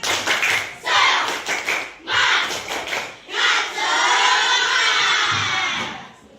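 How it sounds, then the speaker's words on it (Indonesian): Classroom of children performs the rhythmic 'tepuk semangat' clapping chant, bursts of synchronized claps and shouted words, ending in a long sustained group cheer. "ayo kita tepuk semangat, tepuk semangat"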